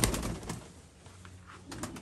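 A few soft pigeon coos from a large pigeon come in short bursts near the start and again at the end, faint and close, with a quieter pause between.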